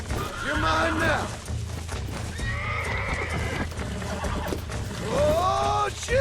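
A horse in the video game Red Dead Redemption whinnies loudly several times, with shrill neighs at the start, middle and end over steady clip-clopping hooves, while someone talks between the cries.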